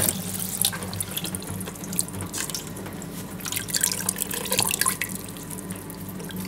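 Water running and dripping as butter lumps are washed in ice water in a home kitchen, a continuous trickle with splashes and drips, loud and close, no talk.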